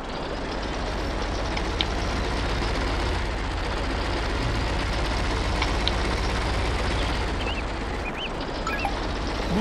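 A tank driving along a road in World of Tanks training mode, a continuous heavy, low engine rumble holding steady at moderate loudness for the whole stretch, with faint clicks and no voices.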